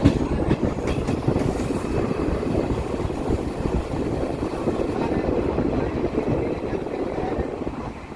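A Bhuj to Rajkot daily special train rolls in toward Samakhiyali Junction, a steady loud rumble with clickety-clack of wheels over rail joints, heard continuously from on board.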